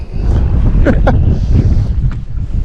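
Wind buffets the microphone on a boat during bass fishing, a loud low rumbling roar throughout with a couple of brief splashy bursts, no voices.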